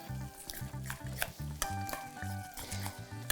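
A rhythmic series of utensil clacks and scrapes stirs a mixture while curried squash latkes fry nearby with a constant sizzle. A low, regular pulsing runs under the strokes, and no one speaks.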